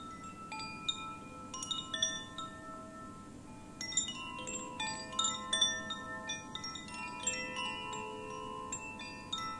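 A small chime tinkles softly and irregularly, bright ringing tones scattered over a quiet rustling background.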